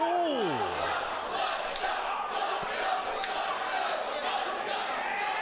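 A crowd at an independent wrestling elimination match roars and chants in a continuous wash of cheering, with a few sharp shouts and a rising-and-falling whistle at the start, under talk from a commentator.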